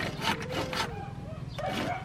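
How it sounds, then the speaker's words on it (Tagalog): A hand saw cuts a thin piece of wood on a farm gate job, giving two or three quick, rasping strokes that are close and moderately loud, with no talk over it. "Oh, mapayat lang naman yan nilalagari mo."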